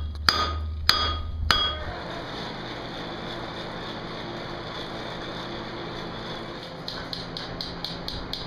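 Blacksmith hammer blows at an instructor training session: three sharp, loud ringing metallic strikes in quick succession, then quieter background noise with a run of lighter rapid taps near the end.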